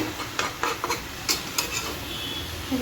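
Leafy greens with split green chillies fry in a pan, a low sizzle broken by several quick, close scrapes and taps of a spatula stirring.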